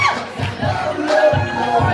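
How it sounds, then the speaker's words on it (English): A crowd at a wedding dance cheers and shouts loudly in a short, continuous burst of excited voices, close and lively. "Let me give you a round of applause for it."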